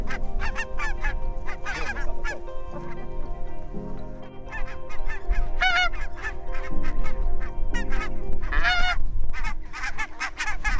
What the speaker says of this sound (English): They're barnacle geese.